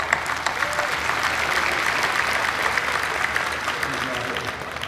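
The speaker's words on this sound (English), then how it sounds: "Let's applaud Mr. Lakhani and the Agora." A large audience applauding, sustained dense clapping that holds steady throughout.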